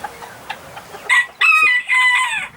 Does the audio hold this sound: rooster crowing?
yes